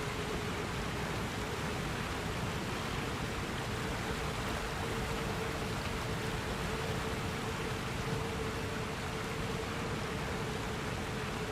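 Waterfall in the video game Elden Ring, heard as an unbroken, even rushing roar with a faint steady tone beneath it and no voices.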